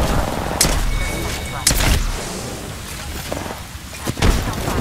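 Gunfire in the video game Apex Legends, scattered sharp shots and booms in several separate bursts, loud and punchy, with quieter game sounds between them.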